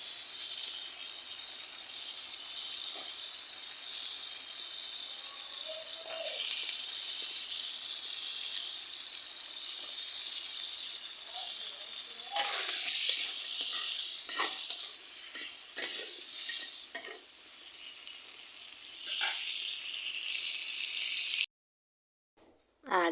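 Washed potatoes and flat beans go into spiced oil in a pan over a wood-fired stove, hissing and sizzling steadily, with intermittent scraping and stirring clinks from a utensil.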